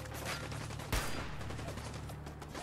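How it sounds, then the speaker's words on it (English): A musket shot in Fallout 4 gives one sharp, heavy report partway through, over quieter gunfire and game noise in the background. "That was a musket."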